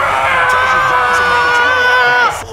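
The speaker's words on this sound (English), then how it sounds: "Crowd's going wild. It's supposed to be my audience sound." A loud stadium crowd in the video game Madden NFL roars and cheers in a steady, sustained wall of sound, then cuts off abruptly.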